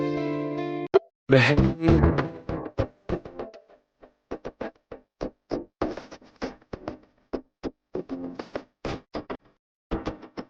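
A knife chops vegetables in a home kitchen in sharp, uneven taps, some quick runs of cuts and some spaced beats, loud and close against near silence.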